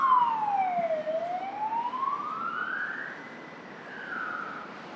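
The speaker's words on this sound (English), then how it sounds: "I'll wait for the ambulance to go." A wailing ambulance siren on Victoria Street, Singapore, sweeps up and down in pitch, loud and fairly close, slowly fading slightly as the vehicle moves along.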